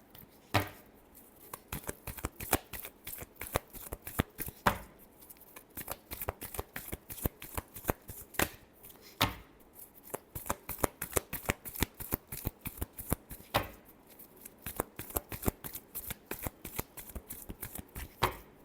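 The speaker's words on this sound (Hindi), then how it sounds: "Last shuffle." Tarot cards being shuffled close up in repeated bursts of crisp riffling and flicking, separated by short pauses, with no talking.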